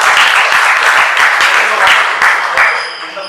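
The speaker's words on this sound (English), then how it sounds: "So, big round of applause." An audience applauds continuously at a sports psychology event, a dense wash of clapping with scattered sharper claps that tapers off slightly toward the end.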